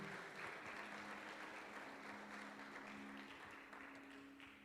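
A church congregation applauds at a service, broad steady clapping that fades gradually, heard fairly faint with a low hum beneath.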